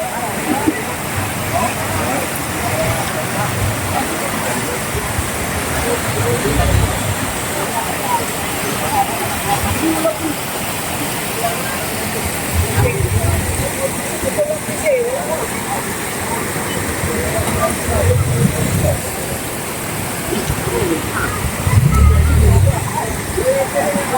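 Floodwater rushes steadily and loudly throughout, a constant churning roar with occasional low thumps.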